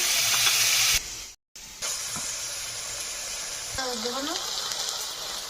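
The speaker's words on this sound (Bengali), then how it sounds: "যে বাটিতে মশলা ছিল সে বাটিটা ধুয়ে জল দিয়ে দিচ্ছি।" Rinse water from a spice bowl splashes into a hot pan of spiced village-style Kadaknath chicken, setting off a loud hiss and sizzle that briefly cuts out, then resumes with steam and a voice talking over it.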